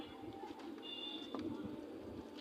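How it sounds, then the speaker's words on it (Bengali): Soft cooing of a pigeon with clipped wing feathers being released, at a fair distance, with some faint background noise and brief rustling. "এটা পরকাটা কবুতর ছাড়ছি, কবুতরটা বামে উঠে গেছে"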